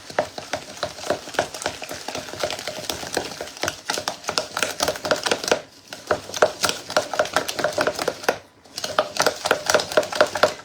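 Cornbread mix batter with one egg and a third cup of milk is stirred briskly in a bowl, rapid scraping and tapping strokes in an uneven rhythm with a couple of brief pauses, close and fairly quiet.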